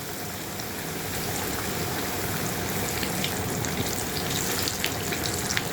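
Chicken pieces fry in hot oil in a pan for biryani, a steady, close sizzle with dense crackling and spitting pops throughout, no voices over it.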